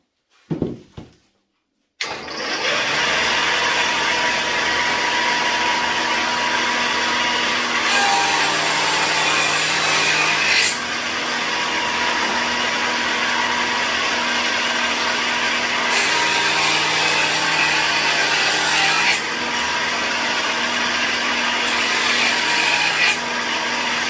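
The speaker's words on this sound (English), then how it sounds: "I'm going to remove some of the stock with a dado" A dado blade chews through wooden blanks for pie-crust table legs, a loud, steady machine roar with the pitch shifting as each pass begins and ends, several long cuts in a row after a brief start-up.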